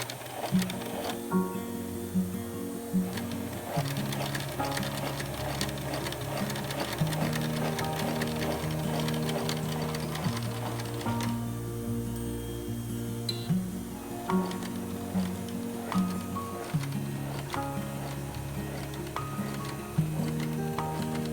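A sewing machine stitching a cloth face mask runs in rapid mechanical bursts, stopping and starting with ticking needle clatter and a low motor hum, no talk.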